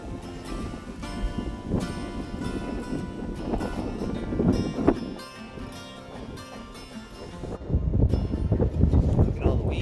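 Wind blowing over open water around a fishing boat on a sunny, windy day, a steady rough rush of air buffeting the microphone with some water noise beneath, swelling louder near the end.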